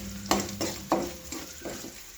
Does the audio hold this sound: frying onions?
yes